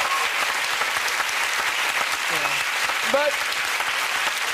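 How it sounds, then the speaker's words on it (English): A television talk-show studio audience breaks into loud, sustained applause, a dense crowd of clapping hands throughout, with brief bits of a voice and laughter cutting through the middle. "Round of applause for that."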